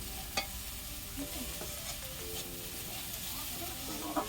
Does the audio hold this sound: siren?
no